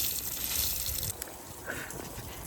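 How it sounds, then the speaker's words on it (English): Water sprays and splashes onto a garden membrane laid around leeks, a steady close hiss of falling water that eases slightly partway through. "Now I'm watering the membrane."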